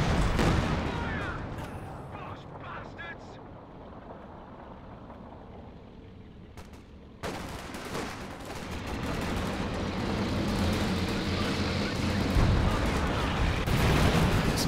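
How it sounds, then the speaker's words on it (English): Base howitzer artillery fire in Company of Heroes 2, heard as distant booms and rumbling blasts within a continuous wash of battlefield noise, with no voices present. "Some base howitzer fire coming in as well, it sounds like"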